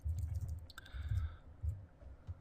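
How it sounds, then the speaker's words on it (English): Computer keyboard arrow keys pressed repeatedly while nudging a marquee selection in Photoshop, a few quick light clicks close by over low background rumble. "if you use the arrow keys on the keyboard, you know, you can move that around"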